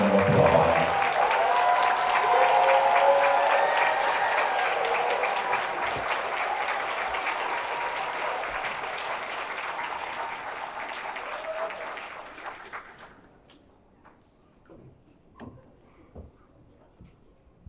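An audience at a Big Brothers Big Sisters of Metro Atlanta graduation celebration applauds in a dense, sustained burst of clapping that gradually thins out, leaving a few scattered claps and room noise.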